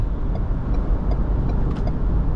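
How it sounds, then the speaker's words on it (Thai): A Ford Everest Next Gen SUV at full throttle, heard as a steady, loud engine and road drone inside the cabin without any break. "เปลี่ยนเลน3 2 1เหยียบเต็มร้อย"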